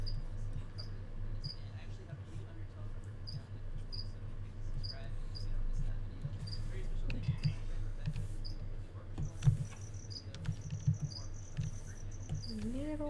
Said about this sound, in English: crickets are going at it again. By going at it, I mean chirping incessantly